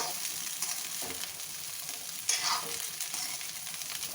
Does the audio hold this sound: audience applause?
no